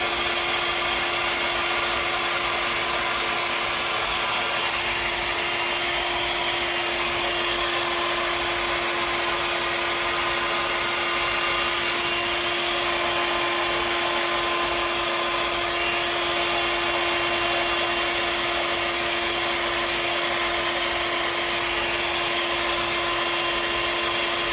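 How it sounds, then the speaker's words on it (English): A hair dryer runs on high in a steady, unbroken rushing whoosh that stays loud and even throughout, with no voices. "Hair dryer on high, my Berta, and let's see how that goes."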